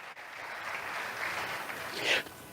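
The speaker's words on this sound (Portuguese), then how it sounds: "Você pode aplaudir ao Senhor?" A church congregation applauds together, a steady wash of clapping that swells slightly toward the end, with no voices over it.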